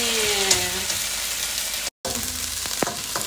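Garlic and vegetables frying in a pan, a steady loud sizzle with faint clinks, broken by a brief gap of silence partway through.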